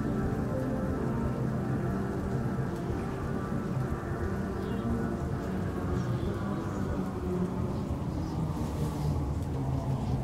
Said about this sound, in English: Oh, it is raining outside.